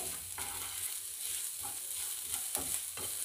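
Spices and onion sauté in a pan over a low flame for stuffed chillies, a soft steady sizzle broken by light stirring scrapes, close up with no talking.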